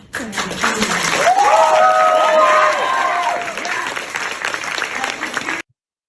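An audience at a public confrontation event breaks into applause, a dense burst of clapping that swells, holds and then tapers before cutting off abruptly, with a voice speaking briefly underneath.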